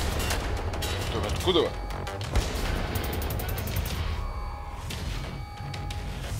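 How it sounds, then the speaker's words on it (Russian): Gunfire from a new weapon in the shooter game Wolfenstein: The New Order crackles in scattered bursts amid dense battle noise, moderately loud, with someone talking over it. "Сзади новая какая-то пушка стреляет."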